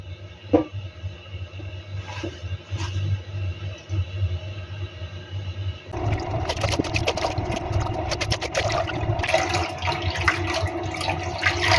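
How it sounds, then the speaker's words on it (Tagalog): A steady low hum runs throughout, then about halfway a louder rush of hot water pouring onto grated coconut begins and keeps going to the end. "Ilagyan ko ng mainit na tubig."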